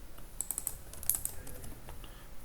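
Someone types on a computer keyboard while writing code, a quick irregular run of light key clicks heard up close and alone.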